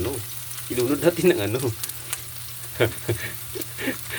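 Potatoes frying in a pan with corned beef, sizzling steadily close up with bursts of crackle and scraping as they are stirred.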